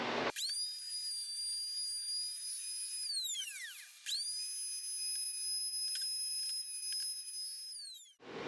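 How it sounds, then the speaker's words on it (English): Router spinning a ball-bearing-guided bit as it shapes the edge of a wooden cutting board: a steady high-pitched whine that dips in pitch near the middle, briefly drops out, then resumes before stopping, with no talking. "there's the router bit that I'm using"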